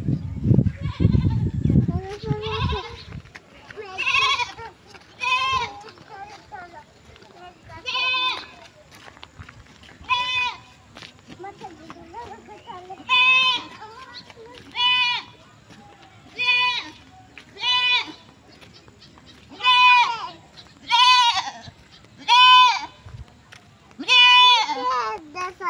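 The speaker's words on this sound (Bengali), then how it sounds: "দেখছো ছাগল বৃষ্টিতে ভিজতে পারে না একদম।" Goats bleat loudly and close by as rain comes on, a string of repeated calls roughly every two seconds, with a burst of talking at the start.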